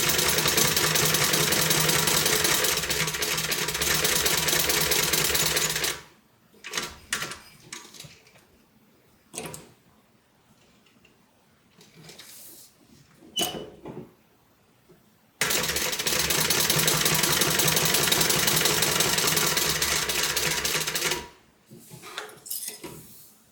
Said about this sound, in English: So as I stitch this, I'm going to stitch around the outer edge of my zipper overlay